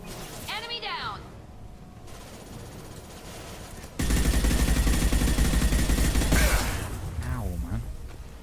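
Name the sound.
rockets and missiles hitting the player in a video game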